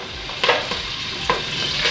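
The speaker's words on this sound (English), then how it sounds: "Make sure it makes that sound when it fries and boils." Garlic cloves fry in oil in a pot with a steady close sizzle, punctuated by a few brief stirring scrapes.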